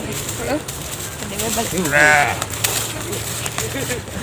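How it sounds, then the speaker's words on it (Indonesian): A sheep bleats once, moderately close, amid a rural village scene while people talk around it. "Itu aya domba mau beli"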